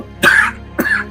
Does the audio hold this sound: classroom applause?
no